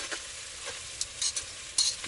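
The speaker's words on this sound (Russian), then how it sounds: "И пока все это мы жарим, тушим." Sweet pepper and tomatoes fry in a pan at a cold outdoor camp, a faint steady sizzle broken by a few short stirring scrapes.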